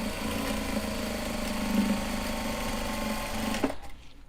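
Sewing machine running steadily as it stitches a seam in Japanese fabric, a close, continuous humming whir for several seconds that stops abruptly near the end.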